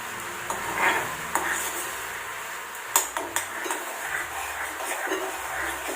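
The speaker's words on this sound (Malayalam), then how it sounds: "ഇത് 1 മിനിറ്റ് നേരം ഒന്ന് ഇളക്കി ഇതിൽ ഒന്ന് ലൂസാക്കുന്നുണ്ട്" A spoon stirs cake colouring syrup in a pan for a plum cake, giving scraping and occasional knocks against the metal, with a faint sizzle underneath, close and fairly steady.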